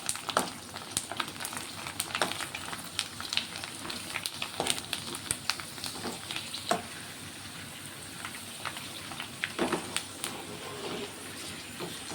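Food sizzles and crackles steadily as it fries in a pan, with sharp stirring clatters breaking through the hiss at intervals, close and fairly quiet throughout.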